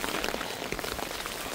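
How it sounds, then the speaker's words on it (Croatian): Summer rain comes down again outdoors in a flood-hit area, a soft, continuous patter of drops at moderate level with no voices over it. "evo ga, kiša opet."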